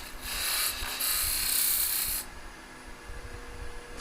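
A wood lathe hollows out a piston box, the cutting tool scraping and rasping against the spinning wood for about two seconds before the sound drops to a softer steady hum of the running lathe, close by.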